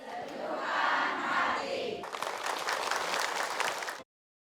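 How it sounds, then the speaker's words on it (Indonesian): Studio audience at an Indonesian religious talk show breaks into loud, sustained applause with crowd cheering, the clapping swelling and continuing densely for about four seconds before cutting off abruptly. "Mau tepuk tangan untuk Ustaz Munawir."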